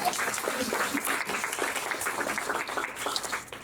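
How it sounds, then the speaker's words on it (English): Steady applause from a room full of people, a dense patter of clapping hands that holds at an even level throughout. "So a round of applause for him as well."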